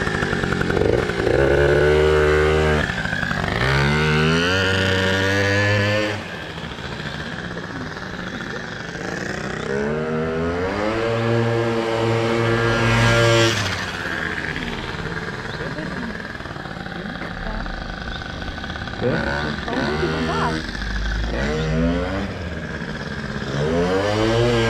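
A Yamaha Booster scooter engine runs close by, with a raspy, buzzing note that revs up and falls back repeatedly in uneven bursts. People talk over it throughout.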